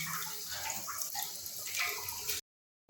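Water pours and splashes steadily while a rug and a mat are washed with drained washing-machine water at home, a continuous rushing wash that cuts off abruptly into silence.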